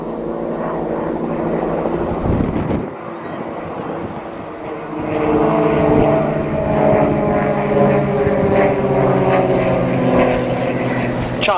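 Propeller engines of a French CAP 232 and a German Extra 300 aerobatic aircraft flying a display at an air show, a loud droning buzz that shifts in pitch as they manoeuvre, with a brief dip before swelling again.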